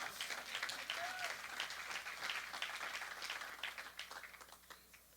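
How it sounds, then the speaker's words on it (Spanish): A church congregation applauds, a dense wash of clapping that is strongest at the start and gradually thins and fades toward the end, heard fairly faint and without clear voices over it. "Dale ese aplauso más fuerte al Señor"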